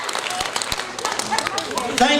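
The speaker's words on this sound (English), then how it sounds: "I'd like for all the band students to give your parents and your family and friends a good hand clap" A school concert audience claps for the band students, a scattered, fairly light round of hand clapping with cheers and voices mixed in.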